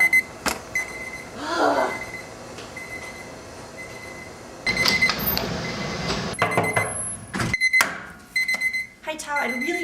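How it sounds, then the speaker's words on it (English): A lab timer beeps in repeated short bursts, mixed with clattering, shifting room noise and a voice speaking at one point. "I keep having to hear it beep in there."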